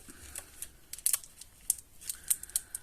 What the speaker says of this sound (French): Je vais faire des découpes aussi.